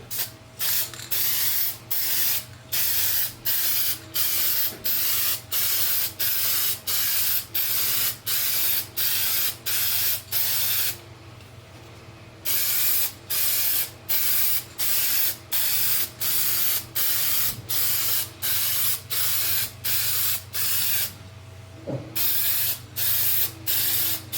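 Frosted glass spray is applied to glass in a long series of short, sharp aerosol bursts, evenly spaced and close, with two brief pauses between passes and a low steady hum underneath.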